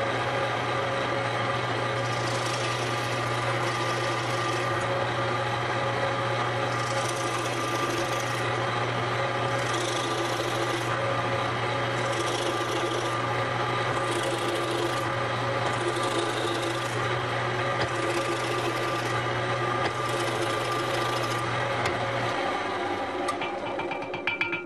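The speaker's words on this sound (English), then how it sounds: "turn on my drill press, and start drilling a couple of lugs" A drill press with a plug cutter hums steadily while the bit repeatedly bites into wood, cutting fret marker plugs, producing about eight rhythmic bursts of grinding and cutting, close and continuous.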